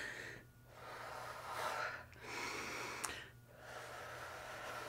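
Faint, close-up heavy breathing during an at-home abs workout, with slow rhythmic inhales and exhales that rise and fall in long audible waves.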